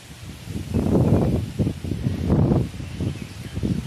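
Gusts of wind from Cyclone Fani in 2019 buffet the microphone on a rooftop and rustle nearby tree leaves in uneven surges, loud and close, with no talking.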